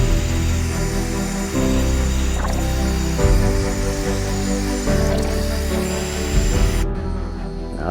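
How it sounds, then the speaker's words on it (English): A drywall paddle mixer churns a fertilizer solution for drip line irrigation injection, giving a steady, continuous sloshing and squishing drone that runs the whole time at close range, with no speech over it. "Got a paddle mixer for drywall."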